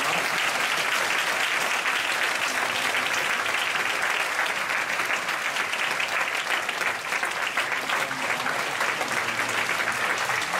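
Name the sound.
congregation applauding for the stroller parents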